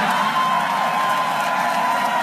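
A crowd at a Hillary Clinton fundraiser in Provincetown, Massachusetts applauds and cheers, a dense, steady wash of clapping and voices that holds at a constant level for the whole short stretch, with no individual speech standing out.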